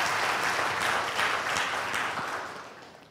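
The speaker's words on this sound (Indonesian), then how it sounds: "Tepuk tangan." Congregation applause fills a church sermon, steady and dense for about two seconds, then thinning and fading out near the end, with no talk over it.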